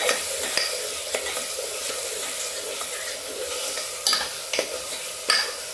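Ground masala paste sautéing in a pan for a mutton curry, with a steady close sizzle and frying hiss, a few sharp spoon scrapes and stirring clinks breaking through, with no talking.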